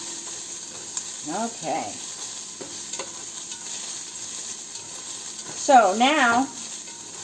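Onions cooking in a dry pan with no oil, giving a soft sizzle with occasional stirring scrapes, fairly quiet beneath a person talking in bursts.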